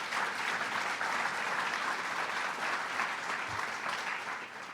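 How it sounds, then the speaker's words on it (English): Steady, sustained applause from an audience at a government announcement event for Binghamton University's health science and technology plans, a dense even wash of clapping that holds across the whole stretch with no voices over it. "So let's give them a round of applause."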